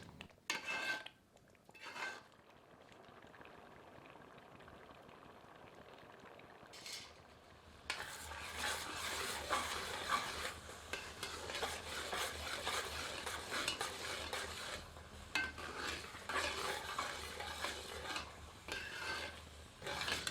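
Carrot halwa with sugar stirred in a pan on medium heat: a few scattered scrapes and a quiet lull, then a steady rasping stir with a soft bubbling sizzle, close and without any voices.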